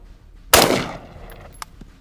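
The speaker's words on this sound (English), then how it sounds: "So now, let's fire 4 more times." A single sharp, loud shot from a Colt M16A1 rifle firing 5.56 rounds into concrete cracks close by, then decays quickly into a short ringing tail before quiet, with a faint clink afterward.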